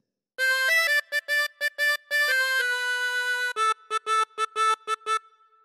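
Harmonica playing the final phrase of a theme, a run of sharp staccato reedy notes, one long held tone, then another quick series of short repeated notes, loud and unaccompanied.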